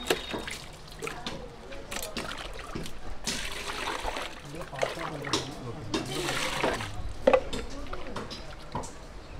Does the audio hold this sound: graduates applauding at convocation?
no